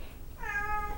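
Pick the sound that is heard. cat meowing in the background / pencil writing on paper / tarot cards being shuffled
cat meowing in the background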